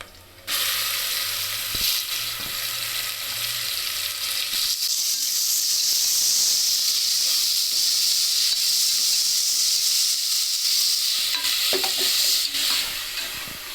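Ground spice paste frying in a pan for vegetable pulao, a steady loud sizzle and hiss that runs continuously for several seconds, with occasional light stirring knocks.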